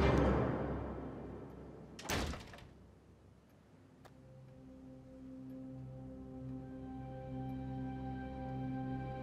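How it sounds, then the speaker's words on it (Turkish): A door is swung shut with a loud thud in a tense indoor scene from a Turkish drama, followed by a sustained harmonic musical drone. "Kapatın kapıyı."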